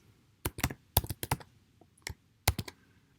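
Code being typed on a computer keyboard: quick bursts of crisp key clicks in uneven clusters with short pauses between them, close and fairly quiet, with no talking.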